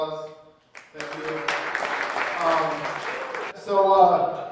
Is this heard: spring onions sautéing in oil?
no